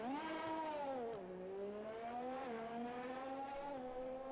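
A race car spins at a chicane in an Xbox racing game at the Spanish Grand Prix, its engine whining in a steady harmonic tone that dips and rises again as it rotates and recovers, alone and close.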